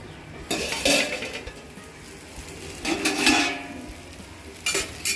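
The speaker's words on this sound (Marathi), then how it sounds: "आता आपण कढईवरचं झाकण काढून घेणार आहोत" A metal lid clanks off a kadhai, followed by scraping and stirring of stuffed bitter gourds in oil with a faint sizzle beneath, then another clatter near the end.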